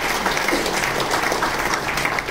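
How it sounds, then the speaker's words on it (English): A crowd applauds after an annual report presentation, giving a dense, even wash of clapping that stays steady and fairly loud throughout with no talk. "they deserve a big round of applause from all of them"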